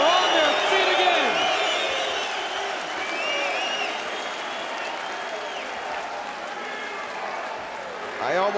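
An arena crowd at a UFC event roars, cheers and chants after a fight, a loud, sustained wall of voices with whoops and clapping that dips slightly midway and swells again at the end, under commentary.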